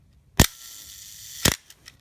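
An Asahi Pentax SP1000 film camera fires its shutter at a slow speed: a sharp near click opens it, and about a second later a second crisp click closes it, in an otherwise quiet room.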